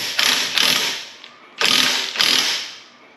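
A rotor puller being tightened on the rear of a Toyota Camry during a wheel bearing job: four loud, close bursts of mechanical ratcheting in two pairs, each fading out, with no talking.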